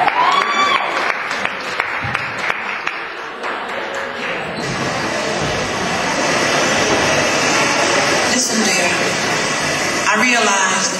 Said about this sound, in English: So give a round of applause to these girls here.